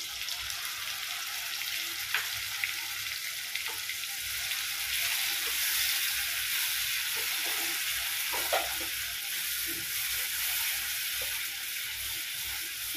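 A yogurt spice paste being sautéed with vegetables in a pan for a vegetarian pointed gourd and moong dal dish, with a steady close sizzle and occasional stirring scrapes, no talk.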